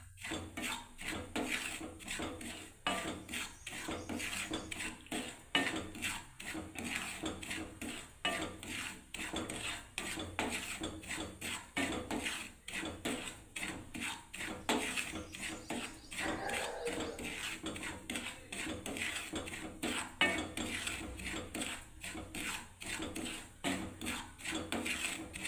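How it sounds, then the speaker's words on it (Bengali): Semolina stirred as it dry-roasts in a pan without oil or ghee for upma: continuous close scraping and metallic clinks of a spoon against the pan, rapid and rhythmic, with no voices. "প্লেন ভাজবো সুজিটাকে, তেল ঘি কিচ্ছু দেবো না।"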